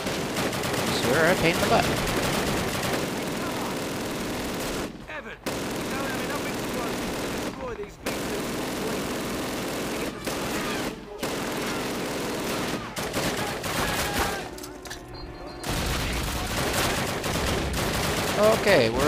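Call of Duty battle with sustained machine-gun and rifle fire rattling in long bursts, broken by brief silent gaps, loud and close, with someone speaking briefly over it.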